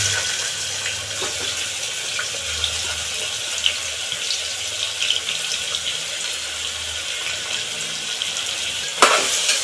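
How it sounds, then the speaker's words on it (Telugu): Onions and green chillies frying in hot oil for a goat head curry, giving a steady, dense sizzling hiss throughout with a brief sharper crackle near the end. "నూనె మరిగిపోయింది కదా ఇప్పుడు ఉల్లిపాయలు పచ్చిమిరకాయలు వేసేసుకుంటున్నాం"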